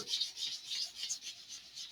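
A sanding block is rubbed by hand over a wooden part of a Quest Terrier Orion model aircraft build in big circular strokes, giving a close, raspy scratching that swells and fades in quick repeated passes, with no voices.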